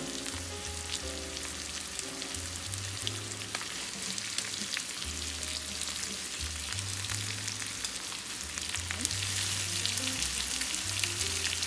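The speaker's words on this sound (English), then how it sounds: "we're just gonna let this steak sit in the pan and cook" A steak sizzling in a pan of thyme-infused oil, a steady close crackling fry that continues evenly throughout.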